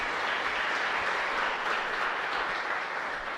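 A church congregation at Mass bursts into sustained applause, a thick, even roar of many hands clapping together, steady and full from start to finish with no voices standing out.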